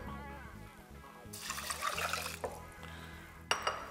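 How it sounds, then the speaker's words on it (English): Water pours into a pot of rinsed sushi rice in a kitchen, a soft splashing gush that starts partway through, runs about a second and stops, then a short splash follows, over a quiet background hum. "Add your water,"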